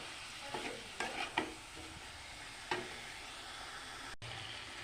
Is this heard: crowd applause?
no